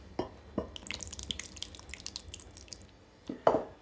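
Warm stout poured into an oat and honey bread dough mixture, giving a few soft splashes and drips early on and a louder wet glug near the end, close and fairly quiet.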